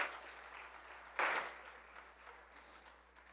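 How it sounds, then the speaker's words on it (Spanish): A church congregation breaks into a sudden wash of clapping during a worship service, rising abruptly and then fading away into room ambience, moderately distant, with no talking over it. "Démosle una ofrenda de palmas al Señor por los de atrás."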